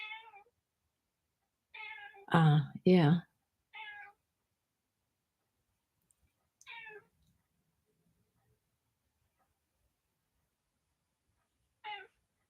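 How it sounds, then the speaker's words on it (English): An upset cat meows repeatedly and close by, with short plaintive cries spaced over several seconds, two louder drawn-out yowls near the start and a few quieter meows later amid silence; a person briefly speaks once. "you hear the kitty. She's right here. She's upset."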